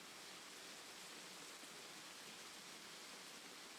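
Steady rain from a game-stream overlay, a continuous broadband hiss at even loudness with no breaks.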